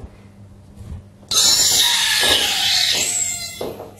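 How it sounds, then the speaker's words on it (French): A gas cartridge is screwed onto a whipped cream siphon for chantilly, releasing a sudden loud, steady hiss that fills the bottle for nearly three seconds before tapering, with soft clicks before and after. "C'est le gaz qui remplit la bouteille"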